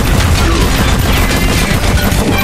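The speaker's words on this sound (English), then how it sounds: "explosion coming up" An explosion in the action game Huntdown: a loud, dense burst of blasts and rattling, gunfire-like crackle that fills the whole moment without pause.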